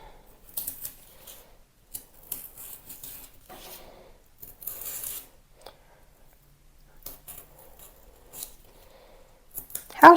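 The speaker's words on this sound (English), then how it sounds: "So I'm just going to cut out the shape of my fish here" Sharp scissors snip through paper, cutting out a fish shape for a papier-mâché craft, in short irregular bursts of crisp cutting and rustling, close up in a quiet room.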